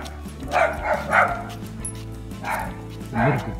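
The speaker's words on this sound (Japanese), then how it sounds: "聞こえますか皆さん、もう吠えてます。" Another dog barks at a passing toy poodle on a walk, several yapping barks that come in two clusters at a moderate distance over steady outdoor background noise.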